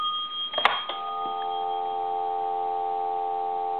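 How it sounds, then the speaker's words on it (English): A GTE A&E telephone handset is lifted with a couple of sharp clicks, followed by a steady, continuous dial tone that hums on evenly without talking. "There's your dial tone."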